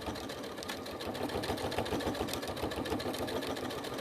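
A domestic sewing machine stitching straight across crazy patchwork fabric with pleather and lace, a close, continuous rapid whirring hum at steady speed throughout.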